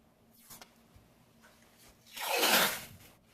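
Adhesive tape is pulled off its roll with one loud ripping tear, preceded by a few faint soft handling rustles while a steel door is masked for a faux wood finish.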